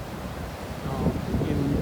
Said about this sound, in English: The ripple and foamy waves